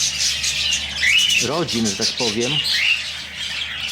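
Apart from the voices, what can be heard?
budgies squawking in an aviary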